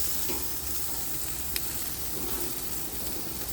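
Chicken pieces sizzle steadily in a hot pan for a simple sandwich, a close, even crackle of frying fat with a single sharp tick near the middle and no talking.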